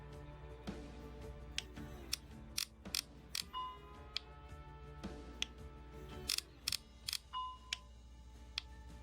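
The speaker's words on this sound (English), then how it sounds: "Tighten up those bolts." Bolts being tightened in a video game demo: quiet mechanical ratcheting and clicking with scattered sharp ticks and short whirring tones over a low steady hum.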